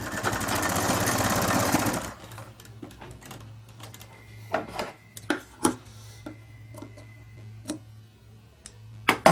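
Sewing machine stitching a small baby shirt: a steady, dense whirring run for about two seconds, then stops, followed by scattered clicks and handling taps over a low hum.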